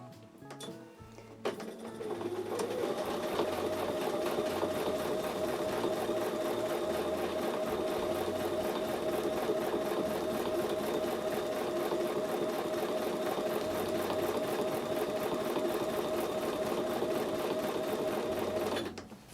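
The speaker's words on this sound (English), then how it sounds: "So now I'm going to fill my bobbin thread." A home sewing machine runs steadily while winding bobbin thread during work on a Christmas table runner quilt, a close, continuous mechanical whir that starts after a brief click and holds an even pitch and loudness for most of the time.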